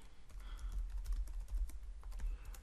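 Steady clicking of keys on a computer keyboard as Python code for the pandas library is typed, close and fairly quiet with a low hum underneath, no talking.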